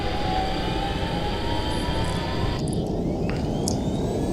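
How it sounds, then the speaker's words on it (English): An A-6 Intruder jet engine spools up in the FSX flight simulator, a loud, steady roar with a faint rising whine layered on top, continuous and close throughout with no voices. "Okay, I'm hearing the engine spool up."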